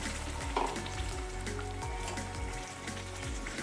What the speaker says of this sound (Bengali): রসুন বাটা দিয়ে ভালো করে ভেজে নিতে হবে